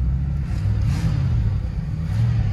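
A 1976 Lincoln Continental with a 460 big-block V8 rumbles steadily as it cruises slowly around a yard, a deep, continuous low engine drone up close with no talking.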